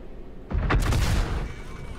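A single heavy tank cannon shot in World of Tanks booms once, loud and deep, with a rumbling tail that fades over about a second.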